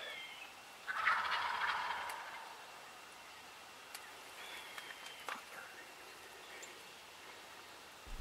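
Wild turkey gobbling during a spring turkey hunt, a mature bearded tom near some jakes: one gobble rings out early, fairly distant and moderate in volume, over an outdoor backdrop with faint patter and scattered small clicks.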